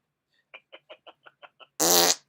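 A voice mimics a fart with the mouth: a run of seven short puffs, then one long, loud, buzzy blast at the end.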